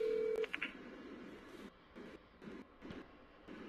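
A phone dialing a call: a short series of sharp electronic keypad tones at the start, followed by quieter intermittent pulses and faint background noise, with no talking.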